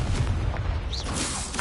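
A Confringo fire spell explodes in Hogwarts Legacy combat, a short rumbling blast with a whooshing burst, loud and close, over constant battle noise.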